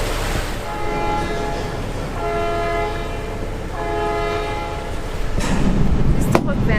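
A tour boat in Sydney Harbour starts its engines and sounds its horn in three long, steady blasts. The engine rumble swells toward the end, with faint voices in the background.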